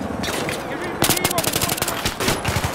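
Gunfire in Battlefield 3, with bursts of automatic fire and single shots, growing denser and louder after the first second and continuing in rapid rattling volleys to the end.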